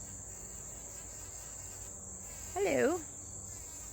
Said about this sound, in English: I love bees. Here's another one.